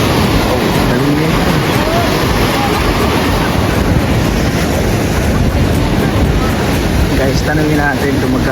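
Heavy waves crash and churn without letup at San Juan Beach in La Union, a dense, close surf roar mixed with wind rumble on the mic, while faint voices surface briefly near the end.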